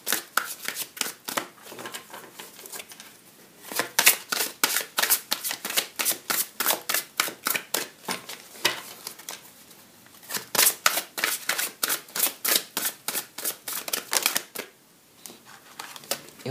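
A fairy tarot deck is riffled and shuffled by hand in quick bursts of crisp flapping card snaps, close and clear, with brief pauses between rounds and no talking.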